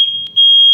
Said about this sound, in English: The fire alarm went off maybe 25 seconds ago.